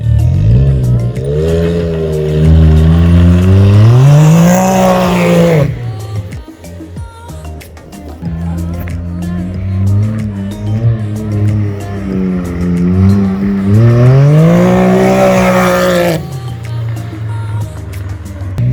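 Custom 2020 Can-Am X3 RC side-by-side engine revving hard and close, two long climbing rev bursts with a lower idling stretch between them, loud and alone.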